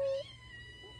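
A cat gives one clear, loud meow at the start, then fades to a quieter, fainter mew near the end, heard alone without talking.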